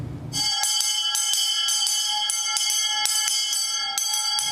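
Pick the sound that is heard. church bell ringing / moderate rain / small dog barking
church bell ringing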